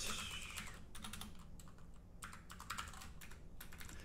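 Quiet keystrokes on a computer keyboard while writing Angular code come in quick irregular bursts with short pauses between, close but soft against faint room noise.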